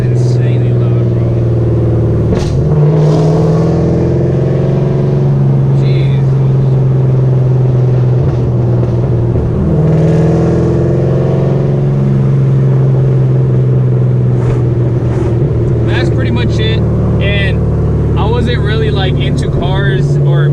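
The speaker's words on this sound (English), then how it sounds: "This car is insanely loud," A straight-piped fifth-generation Camaro SS engine drones loud and close in a deep steady rumble, swelling with brief revs, while someone talks over it nearly the whole time.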